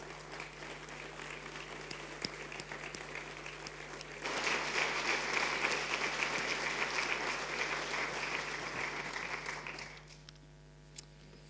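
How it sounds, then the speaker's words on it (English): Church congregation applauding during a Sunday service, clapping that swells louder midway as more people join, sustains for several seconds, then fades out into a quiet hum. "just honour them with another round of applause to say thanks"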